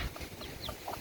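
Broody hen clucking and fighting with another hen over chicks, short soft clucks scattered through the second with faint farmyard background.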